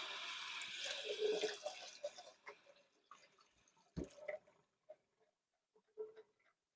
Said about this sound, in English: Let me wash my hand real fast.